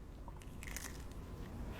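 A crispy beef taco shell with a toasted, cheese-crusted edge is bitten into, giving a sharp, close crunch with a few crackly bursts, then a quieter chewing crunch.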